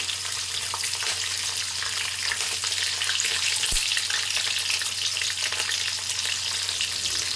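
Peanuts, chana dal and slit green chillies fry in oil for a pulihora tempering. A continuous, moderate crackling sizzle fills the whole stretch, broken once by a dull knock partway through.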